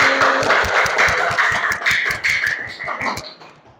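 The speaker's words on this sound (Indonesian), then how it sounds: "Tepuk tangan dulu untuk temanmu tadi." Students in a school history class clap for their classmates in a rhythmic, roughly unison pattern of sharp claps that gradually fades out.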